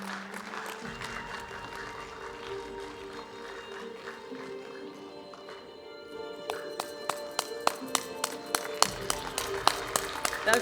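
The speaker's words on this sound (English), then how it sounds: "Welcome her with a great round of applause" An audience at the Sunraysia Indian Association's Festival of Lights 2025 opening ceremony applauds. The clapping is fairly soft and diffuse, and it picks up toward the end, where distinct sharp claps ring out over a hall murmur.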